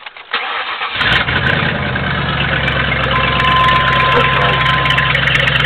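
A P71 Police Interceptor V8 engine in a 1994 Grand Marquis, with one catalytic converter gutted and homemade baffles, cranks briefly, then catches and settles into a loud, steady, rumbling idle, close by.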